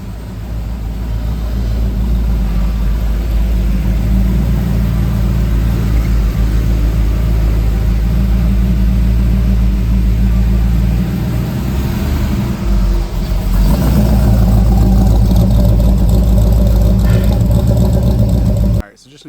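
Chevrolet C10 squarebody truck with an LS3 V8 and BTR Red Hot cam runs steadily, a loud low engine rumble filling the whole stretch, swelling with revs near the end before cutting off; no talking over it.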